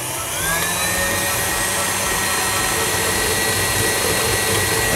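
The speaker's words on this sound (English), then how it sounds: "You can hear the motor working. Increase the speed. And now we beat on high for 2 minutes." An electric mixer motor drives pizza dough beaten on high speed, a loud steady whine with a rising pitch that holds close and continuous, with no voices.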